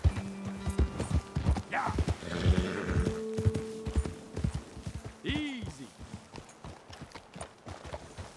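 Horses' hooves clip-clop in a rhythmic run in the video game Red Dead Redemption 2, close and clear, with a horse's whinny partway through and brief spoken words over the hoofbeats.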